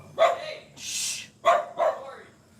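Dog barking from a neighbour's yard next door: a few sharp barks, one at the start and a quick double bark later, fairly close and loud, separated by a brief hiss-like shushing sound.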